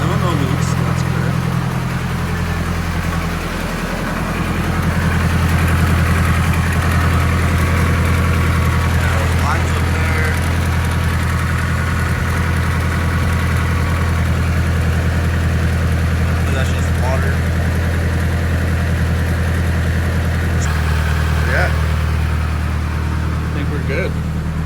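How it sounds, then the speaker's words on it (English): A car engine fitted with a rebuilt T2871R turbo idles steadily in a loud, low, constant drone, with faint clicks and noises over it and only a small shift in pitch late on. "Turbo doesn't sound crazy."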